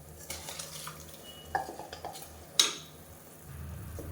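A spoon scrapes and stirs through soaked rice in a metal pot of tomato rice, with a few sharp clanks against the rim and a faint simmer underneath.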